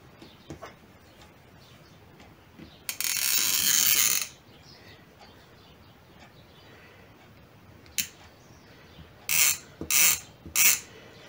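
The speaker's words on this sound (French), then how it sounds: "je viens coudre un fil de fronce qui fait donc la longueur que je viens de tracer" A sewing machine runs a gathering thread along swimsuit fabric in a home sewing room, with one sustained burst of stitching, then three short bursts later, separated by quiet clicks and handling noises.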